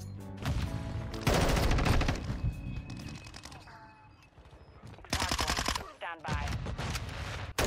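Rapid bursts of automatic gunfire in a shooter video game, loud and close, come in several separate volleys with brief gaps between them, with a voice heard alongside.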